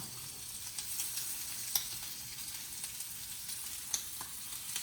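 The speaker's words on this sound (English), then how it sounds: "I want that sizzle" Steady, soft sizzling of chicken frying skin side down in hot oil, with a few faint pops and crackles, no voices.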